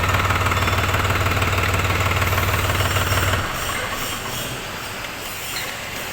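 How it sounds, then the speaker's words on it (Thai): A small three-cylinder engine on a TT3.50 Plus revs high and loud for about three seconds, then drops back to a lower, steadier hum with a faint knocking rhythm. "ถือว่า อัตราเร่งตอบสนองดีนะครับผม เป็นเครื่องยนต์สามสูบนะครับ"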